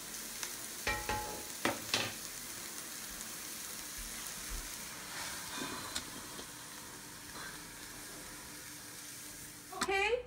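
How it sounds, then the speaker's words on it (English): Vegetables and onions sauté in a pan for shepherd's pie, a faint continuous sizzle with a few clinks of a utensil stirring, ending in a brief louder clatter. "Vegetables are now sautéed to a state of crisp tenderness, looking very tasty"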